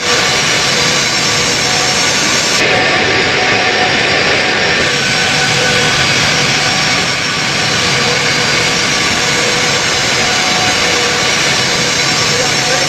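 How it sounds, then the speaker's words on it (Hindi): Jet aircraft landing at Delhi airport, a loud continuous engine roar and rushing whine that holds steady throughout, with someone talking over the noise. "उनका अत्याधुनिक और हाईटेक विमान जिससे वो आए हैं वो दिल्ली में उतरा है"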